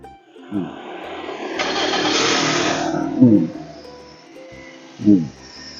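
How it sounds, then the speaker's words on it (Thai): Toyota Altis 1.6-litre car engine cranking and starting, then revving up in a loud surge and settling, followed by two short blips of the throttle, nearby and alone. "เครื่องสวยสะอาดเป็นพันหกร้อยซีซีเดี๋ยวลองสตาร์เครื่องให้ดูนะ"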